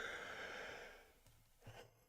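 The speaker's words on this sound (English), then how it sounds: "Ooh, that was a yawn." A long, breathy yawn that trails off into quiet, with a small exhale near the end; close and fairly soft.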